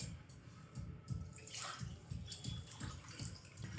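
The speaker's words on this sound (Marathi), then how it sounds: "आता यामध्ये आपण पाणी घालूया" Water is poured into a pot of mixed dal, a soft burbling splash with low rhythmic glugs, quiet and close, with no talking.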